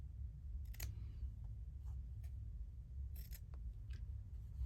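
A few short, crisp snips of scissors trimming embroidery threads, close and quiet, spaced irregularly with near-silence between cuts and no talking.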